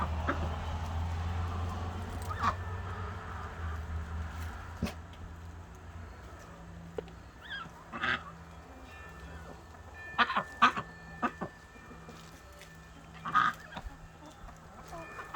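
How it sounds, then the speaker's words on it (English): Backyard chickens cluck and cackle at close range in scattered bursts over steady background noise, with a turkey also kept nearby; no one talks. "So, that's my wonderful chickens."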